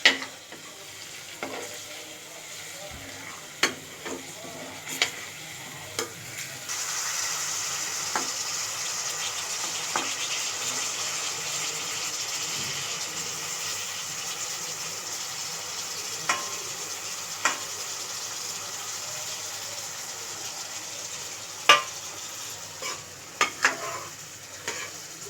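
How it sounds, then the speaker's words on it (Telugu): Tomato egg curry is stirred in a pan over a faint, steady sizzle, with a spatula scraping and tapping the pan in scattered clicks. "తర్వాత మిక్స్ చేసుకోవాలి."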